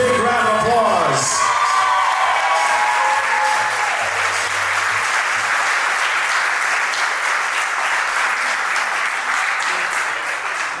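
Loud, sustained applause from wedding guests after the couple's dance, opening with a few seconds of music before clapping with scattered whoops fills the room and carries on steadily to the end.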